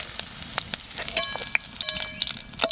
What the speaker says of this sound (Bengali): পেঁয়াজটা খুব বেশি ভাজবো না, 2-3 বার লেড়ে নামিয়ে নেবো, হালকা ভাজবো একদম।